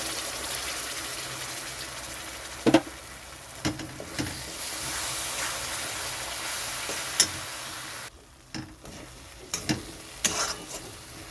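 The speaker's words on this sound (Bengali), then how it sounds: "মশলাটা ভালো করে কষিয়ে নিতে হবে" Ground spice paste frying for a Bengali fish curry, a steady hiss of sizzling oil with a few sharp clatters of stirring, dropping briefly quieter before the sputtering picks up again.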